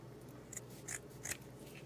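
Scissors snipping through a sock to cut a section for a Santa ornament hat, three short quiet cuts spaced apart, close and alone against a faint room hum.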